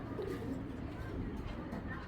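Giribaz pigeons at a Bangladeshi pigeon farm coo in a low, continuous murmur, with several birds blending into a steady throaty hum close by.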